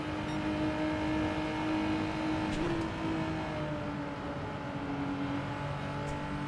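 A Porsche Group 4 race car engine in Gran Turismo 7 at the Watkins Glen short course, a steady loud drone that swells and eases with shifting pitch across several seconds, with no voices.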